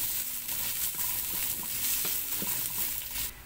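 Chopped onion and garlic hit a hot pan of coconut-milk fish stew with vegetables, giving a steady, hissing sizzle with faint stirring clicks, close and continuous.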